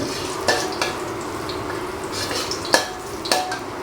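Garlic sizzling in hot pork lard in a pan as it fries to golden, a steady close frying hiss broken by several sharp clinks and scrapes of a utensil stirring.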